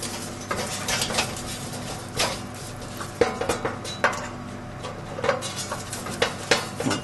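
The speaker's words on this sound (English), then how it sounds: "Loosen these 2 screws." A screwdriver loosens two screws on a Vizu Clam grill, giving light metallic clinks, taps and scrapes at close range, spaced unevenly over a quiet hum.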